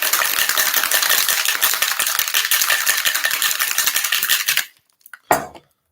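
Ice rattling hard inside a cocktail shaker for a cranberry-juice cocktail, a dense, fast, continuous clatter for several seconds that stops abruptly, followed by a single short knock.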